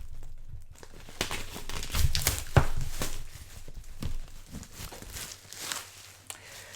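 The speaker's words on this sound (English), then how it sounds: "we can just rip the shrink off really carelessly" Shrink wrap being torn carelessly off a Beatles Anthology LP box set, loud close crinkling and ripping in irregular bursts that ease off toward the end.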